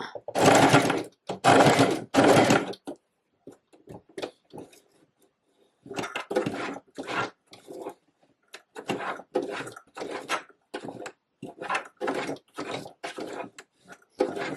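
A sewing machine stitches a reversible waistcoat in quick, stop-start bursts, running hard, pausing, then chattering through several short runs close up with small clicks between.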